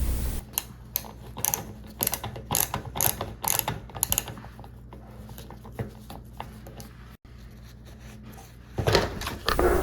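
Quick clicking ratchet bursts from a screwdriver loosening the side screws of a fluorescent light fixture cover, close and intermittent, with a quiet pause midway before a final burst.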